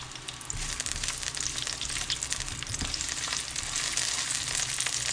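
Garlic fries in a hot pan with a steady, dense sizzle and crackle, close and continuous with no voices.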